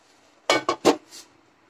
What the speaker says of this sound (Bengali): আমি একটু ঢাকনাটা দিয়ে দেব